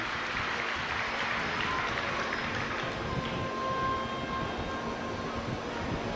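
Audience clapping during a live Shiv Mahapuran religious discourse in Gandai, Chhattisgarh, a faint, diffuse wash of distant applause under a steady hum with a thin tonal whine.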